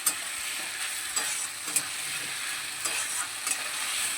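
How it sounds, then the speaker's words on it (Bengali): Potato and pointed gourd with ginger paste and spices hiss and sizzle in a pan as a spoon turns them, with periodic scraping knocks over a steady frying crackle. "আদা বাটাটা দিয়ে আলু পটলটা আবারও খুব ভালোভাবে মশলার সঙ্গে নেড়ে চেড়ে নেব।"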